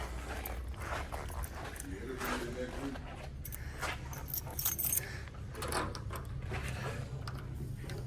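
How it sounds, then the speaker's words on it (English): Car keys jangle in hand beside a 1969 Buick Electra 225 with a black interior, a few short metallic rattles over steady outdoor background noise. "Let me grab the keys."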